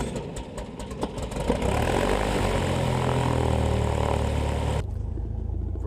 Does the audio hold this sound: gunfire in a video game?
no